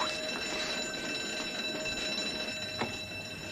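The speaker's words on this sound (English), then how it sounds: "What's that? A fire alarm." A fire alarm rings continuously in an office building, a steady, fairly faint ringing tone with no one talking.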